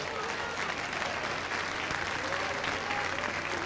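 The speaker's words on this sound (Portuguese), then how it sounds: "Aplauda o nome do Senhor esta noite." Applause from a church congregation fills the whole stretch, a dense, steady clatter of many hands clapping at fairly close range with no break.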